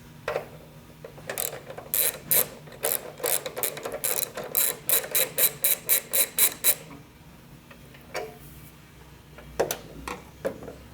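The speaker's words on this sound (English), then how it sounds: "First, we're going to remove the 1/2-inch bolts." A ratchet clicks in quick rapid bursts while half-inch bolts are backed out of a 1967-1972 GM truck cowl, a close, crisp run of pawl clicks followed by quieter pauses and a few final clicks.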